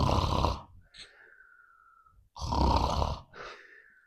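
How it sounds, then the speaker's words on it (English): An owl snores in a Guinean folktale narration: two deep, raspy inhales, each trailing into a thin whistling exhale, close and clear with quiet pauses between. "he flopped down and began snoring"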